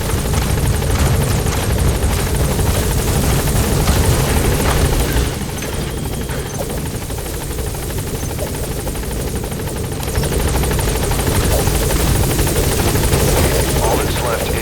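A support helicopter in the video game Metal Gear Solid V hovers nearby, a loud continuous rotor thrum and engine roar that holds steady for the whole stretch, dipping slightly midway before swelling again.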